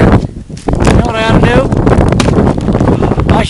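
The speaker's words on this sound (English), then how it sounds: "not very much air up here even though it's windy" Loud, blustery wind buffets the microphone in rumbling gusts while a person talks over it.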